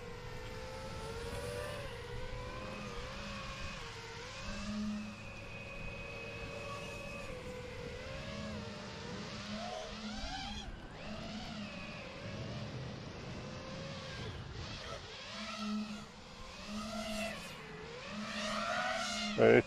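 A GEPRC Mark5 freestyle quadcopter drone flies steadily, its motors whining in shifting, rising and falling pitches as the throttle changes, with a continuous nearby buzz.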